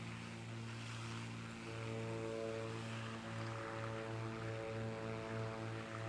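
A propeller plane drones in Microsoft Flight Simulator 2024 during a flight over Hawaii, a steady low engine hum with a faint rhythmic pulsing, moderately quiet and with no talk over it.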